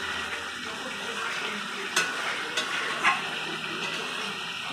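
Mutton sautéed in a pan after being boiled, with a steady sizzle and scraping stirs, plus a few sharp clinks of the spoon against the pan.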